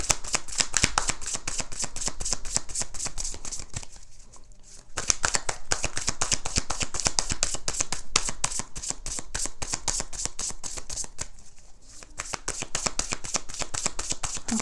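Tarot cards riffled and shuffled by hand close up, a fast continuous rapid flutter of slapping card edges that runs almost without a break, pausing briefly twice.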